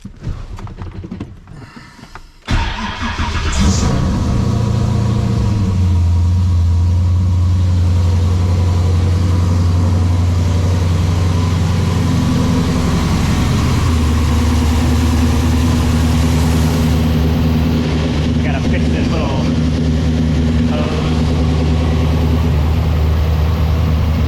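A car engine cranks briefly, catches and settles into a steady, loud idle with a low continuous drone and slight rhythmic unevenness, running alone without talk for about twenty seconds.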